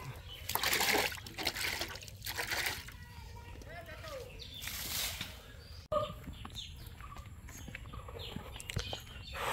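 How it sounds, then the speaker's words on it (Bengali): Water poured over hands beside a fish pond gives two broad splashing bursts near the start and a third midway. Faint birds and background voices sit under and between the pours. "হাতটা ধুয়ে দিই আমি।"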